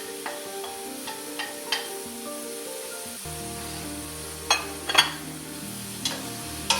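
Chopped yellow onion and carrot softening in a pan with a gentle sizzle, punctuated by several sharp stirring clicks and knocks of a utensil against the pan, close by and without speech.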